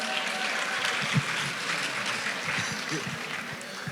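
Audience applause at a foundation's concert event, broadband clapping sustained steadily at moderate loudness throughout, with no talk over it.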